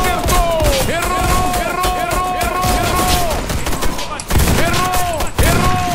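Rapid gunfire from the video game Warface rattles in close, dense bursts with brief gaps, loud throughout, while a player's voice talks over part of it.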